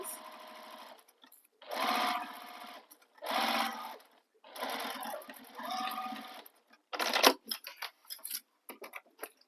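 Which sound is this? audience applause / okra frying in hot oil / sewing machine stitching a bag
sewing machine stitching a bag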